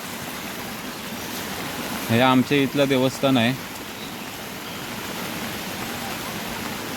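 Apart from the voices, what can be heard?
heavy monsoon rain and flooding stream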